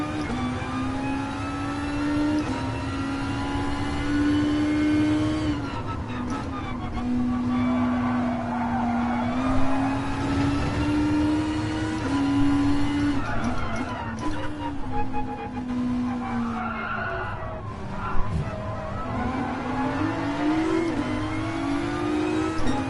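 Porsche 911 Turbo lapping the Nürburgring in a racing video game, a loud continuous engine whine climbing and falling through the gears, with other cars nearby and a brief thump near the end.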